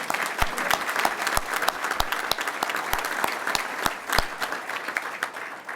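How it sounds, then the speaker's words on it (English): Sustained applause from a room of people, dense clapping with a few sharper individual claps standing out, steady throughout. "So why don't we applaud to that?"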